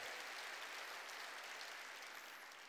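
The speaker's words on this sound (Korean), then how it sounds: "박수로 하나님께 영광을 돌리라는 거예요" A church congregation at a Sunday worship service applauds to glorify God, a soft, distant, steady wash of many hands clapping that fades slightly toward the end.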